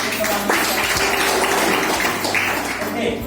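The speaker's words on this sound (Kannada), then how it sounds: "ಅವರನ್ನು ಕೂಡ ನಾವು ಜೋರಾದ ಚಪ್ಪಾಳೆ" An audience in a prayer hall at an inauguration claps. The applause is dense and sustained and holds its level across the whole stretch.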